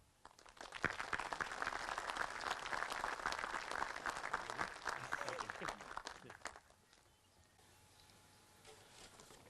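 Audience applause welcoming a Colonel to the podium at a Memorial Day tribute, a dense wash of many hands clapping for about six seconds before tapering off to quiet room tone.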